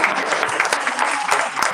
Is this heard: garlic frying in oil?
no